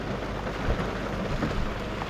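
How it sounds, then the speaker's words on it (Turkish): Heavy rain pours down steadily during a fishing outing, a dense, constant hiss with a low rumble underneath that may be distant thunder, with no voices. "Şimdilik yağmur hızlandı. Biraz sizi yağmurla baş başa bırakıyorum."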